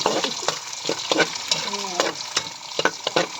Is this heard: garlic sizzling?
yes